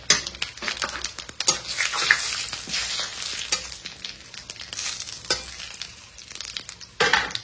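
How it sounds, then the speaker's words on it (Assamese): Whole cumin and dried red chillies fry in hot oil in a pan, a loud continuous crackling sizzle close by, punctuated by scraping stirs and occasional clinks, with no voices. "গৰম হৈ যোৱাৰ লগে লগে 1 চামুচমান আমি গোটা জিৰা দি দিছোঁ"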